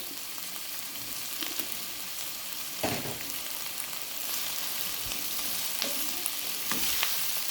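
Keema fries with green chillies added, giving a dense, steady sizzle throughout and occasional louder bursts where the mixture is stirred and tossed.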